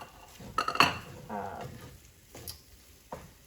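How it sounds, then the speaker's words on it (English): Egg and chorizo stirred in a pan with a spatula, giving scraping clinks and clatter of utensil against pan, a few distinct knocks spread over a few seconds at moderate, close volume. "you want to make sure that you keep stirring the egg with the chorizo here"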